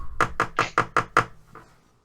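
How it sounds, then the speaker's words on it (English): Six sharp, evenly spaced knocks on a door, close and loud in a steady rhythm, followed by a fainter seventh knock, with no talking over them. "as you're talking, you hear a knock at the door"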